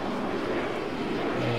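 Helicopter flying in ARMA 3: a steady, dense rotor and engine roar, loud and close, continuous throughout with no talk.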